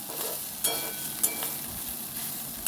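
Cut leftover idli pieces fry in hot oil, giving a steady close sizzle with a few sharp crackling spikes as they are tossed and stirred.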